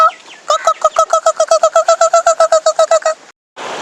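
A chicken close by gives a rapid series of about twenty sharp, evenly spaced clucking calls, followed by a short pause and a burst of noisy rustle.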